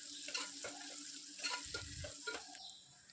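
A medium-sized onion fries in a pan with shahjeera and bay leaf for a Muslim-style methi mutton curry, giving a faint, soft sizzle with a few light stirring taps and no talk.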